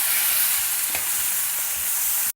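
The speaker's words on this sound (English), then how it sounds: "add in the ginger garlic paste and stir the two till the raw smell has gone" Ginger garlic paste stirred into sautéed golden onions gives a loud, steady close sizzle with faint stirring scrapes throughout, and no one speaks.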